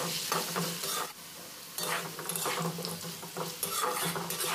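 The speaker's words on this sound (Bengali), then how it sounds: "এইভাবে নাড়াচাড়া করে আলুটা ভেজে নিতে হবে" Small potato pieces with turmeric fry in hot oil, a steady sizzle broken by scraping stirs of a spoon against the pan, close and fairly quiet with no voices.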